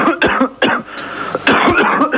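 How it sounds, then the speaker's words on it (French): A run of loud, close coughs, several harsh bursts in quick succession with a brief pause in the middle. "Il y a un gros sampleur qui tousse."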